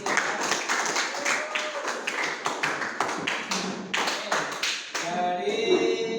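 Clapping from a small group after a talk on AI, a run of sharp separate claps fairly close, with a brief tonal sound near the end.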